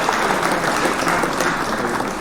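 An audience gives a musician a round of applause, a steady, full wash of clapping filling the whole stretch with no voices on top.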